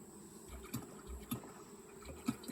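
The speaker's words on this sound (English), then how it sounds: "A bee's trying to get in there." Honey bees buzz around a beehive during an outdoor hive inspection in August, a faint steady hum broken by a few brief closer passes.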